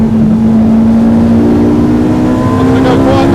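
A Ferrari 458 Challenge Evoluzione race car runs flat out around the Fiorano track, its engine a loud, steady high-revving drone heard from inside the car, with a slight rise in pitch as it accelerates.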